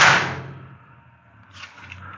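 A YZONI foldable magnetic LED work light snaps onto a metal garage door with a single loud, close clack that rings off into quiet, followed by a faint soft rustle.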